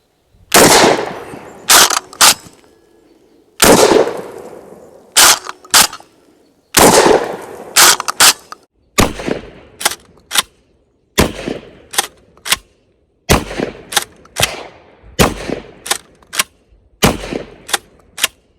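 KelTec KSG 12 gauge pump shotgun fired outdoors, a series of loud, sharp blasts in uneven groups with short pauses and action clacks between, close by.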